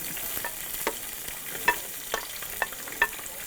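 Two medium onions frying in hot oil in a pan for a Kerala-style chicken curry, a steady close sizzle broken by several sharp scraping clicks as a spoon stirs them.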